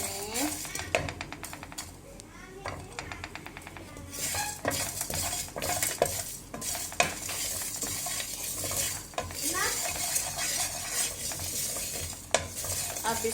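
Spices for spicy beef pulao roasting in a pan while a utensil stirs and scrapes, with frequent metallic clinks over a soft sizzle and a voice talking at times.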